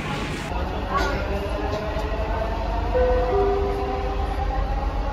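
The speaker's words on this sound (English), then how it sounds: "Parating na yung train." A metro train pulls into a station, rumbling and slowing with rising whining tones, while nearby voices murmur in the background.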